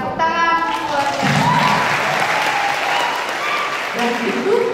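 An audience at a 2017 opening ceremony gives a burst of steady, full applause, loud and continuous throughout, with voices faintly mixed in.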